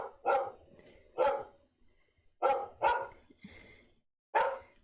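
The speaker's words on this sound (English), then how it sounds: "Bijou, she's barking." A small dog barks indoors in sharp, close single barks, five of them spaced irregularly with short pauses between, loud and clear with no talking.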